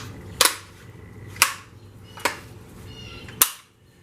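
A well-worn Japanese 6.5 rifle, war-era and still functioning, worked by hand: four sharp metallic snaps of the action spaced about a second apart, close and crisp with faint rattling in between and no talk.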